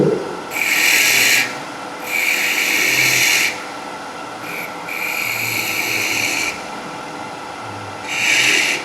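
A woodturning tool cuts a spindle on a lathe in several bursts of harsh, hissing scraping, each lasting about a second, separated by the quieter hum of the spinning lathe, close and loud, with no speech.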